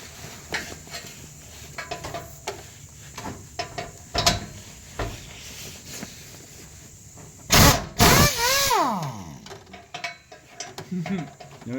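A ratchet set to tighten works on a muffler being reinstalled on a 2000 Toyota Celica GT with a 1ZZ-FE engine, giving quick clicking pawl bursts, a couple of sharp metallic bangs and scraping, close by with intermittent faint voices.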